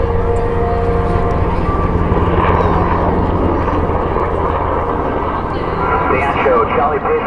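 A classic warbird propeller aircraft performs inverted flight at the Great Texas Air Show, its engine a loud continuous drone that swells and fades slightly as it passes.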